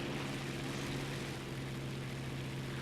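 Steady, droning propeller engine of a Polikarpov I-153 biplane in flight in War Thunder, a continuous low hum holding unchanged throughout with no breaks.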